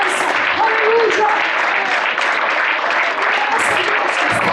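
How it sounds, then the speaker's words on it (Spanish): A church congregation applauds loudly and continuously, with voices shouting praise mixed into the dense clapping throughout. "Denle al Señor un aplauso."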